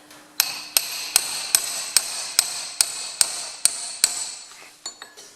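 Hammer blows drive a punch against the rear axle seal of a Massey Ferguson 35X tractor held loosely in a vise with broken jaws. About ten sharp, evenly spaced metallic strikes ring out close up, followed by a few lighter taps.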